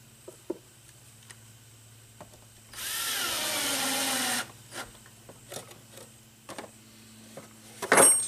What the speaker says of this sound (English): I'm going to put a screw to secure this